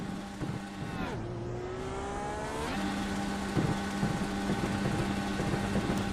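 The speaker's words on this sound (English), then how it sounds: "you can see, the revs and hear the engine as well." A race car engine in a racing video game revs hard, a rising and falling whine climbing to a sustained high-pitched drone at full throttle, loud and steady throughout with no talk over it.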